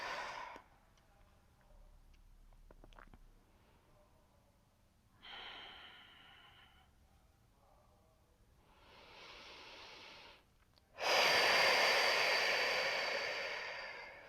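Slow, quiet breaths during a restorative yoga session, several soft inhales and exhales spaced apart, the last one a louder, long airy exhale near the end.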